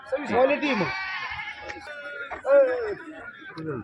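Several loud, quavering goat bleats ring out close by at a goat market, one after another, with voices murmuring in the background.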